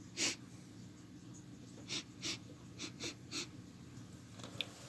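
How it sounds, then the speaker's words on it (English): Several short, breathy sniffs at 50-year-old olives just out of their container, in uneven bursts close to the nose with quiet pauses between them. "let's go ahead and get a sniff of this."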